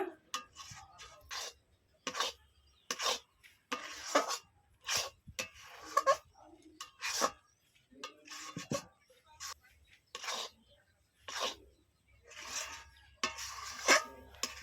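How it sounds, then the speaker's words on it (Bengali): A spatula stirs gujiya dough with ghee in a wok, making a steady run of short clinks and scrapes against the metal, repeating every second or so, close up and fairly quiet. "চতুর্দিক থেকে নেড়ে এক জায়গা করে নেব।"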